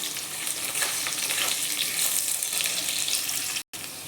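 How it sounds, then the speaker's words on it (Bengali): Potatoes fry in a pan for a fish curry with a steady, loud oil sizzle and crackle that runs the whole time, broken by one brief gap near the end; no one speaks. "দিয়ে এখন আমি আলুগুলো দিয়ে দেব। আলুগুলো আমি অল্প ভেজে নেব।"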